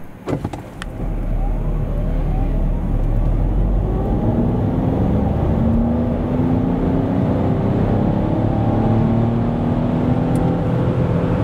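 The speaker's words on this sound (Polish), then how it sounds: "Z gazem w podłodze i w trybie sportowym samochód tak przyspiesza od zera do setki." A 2024 Renault Espace E-Tech hybrid (199 hp) accelerates from 0 to 100 km/h at full throttle in sport mode, with a steady loud drone and engine tones climbing in pitch throughout.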